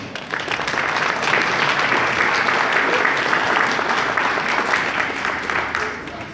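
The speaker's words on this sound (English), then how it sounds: "So give them a round of applause." A crowd at a video game hall of fame induction ceremony applauds, dense overlapping claps forming a steady roar that lasts several seconds before tapering off at the end.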